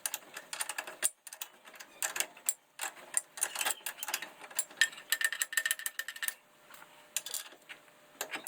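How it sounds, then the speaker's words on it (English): A ratchet loosens bolts on the rear axle carrier of a Hisun 250 utility vehicle, giving close, rapid clicking bursts in repeated runs with brief pauses between strokes. "We're going to loosen these bolts and get this axle carrier out of the way"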